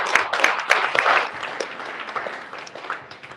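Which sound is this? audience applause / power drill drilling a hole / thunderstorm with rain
audience applause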